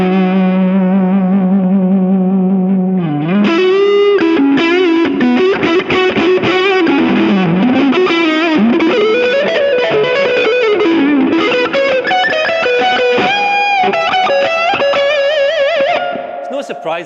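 Distorted electric guitar, a '50s reissue Strat or Tele, plays a continuous, loud riff with sustained chords and bending lead notes, heavily saturated with a touch of chorus and reverb.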